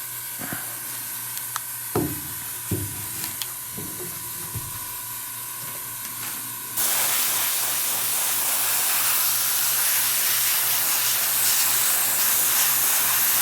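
Airbrush spraying paint across a model base with groundwork, a steady close hiss that starts partway through and runs alone after a few light taps and handling noises.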